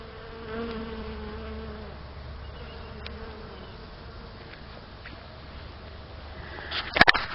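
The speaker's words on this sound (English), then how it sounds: "my bees just love it. They are just covered. You can probably hear them." Bees buzz steadily in a soft, continuous drone around broccoli flowers, a swarm hum close by, ending with a brief rustle.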